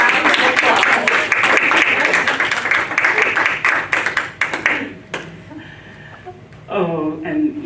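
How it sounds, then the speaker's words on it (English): An evening audience at a talk on Black women and labor applauds with dense, steady clapping for about five seconds, which then thins out into a few scattered claps and murmured voices. "So let's give her a round of applause."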